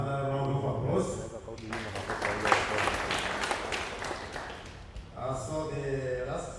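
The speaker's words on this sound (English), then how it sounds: "Another round of applause." Audience at an energy conference breaks into a burst of applause that rises and fades over a few seconds, framed by a speaker's voice before and after.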